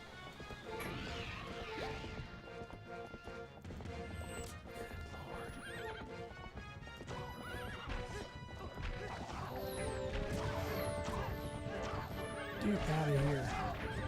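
Horse galloping and neighing in the video game Zelda: Twilight Princess, with steady clip-clop hooves and a whinny near the end over game music, while someone talks over it.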